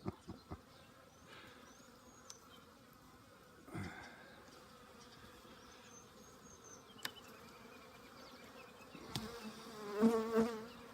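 Honey bees buzz around an opened hive during a beekeeper's first spring inspection, a continuous droning hum with occasional louder passes near the end and brief handling clicks.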